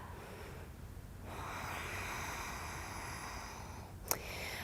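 A single long, airy inhale during a yoga backbend warm-up, a soft steady hiss of breath that fills most of the stretch, ending with a brief click.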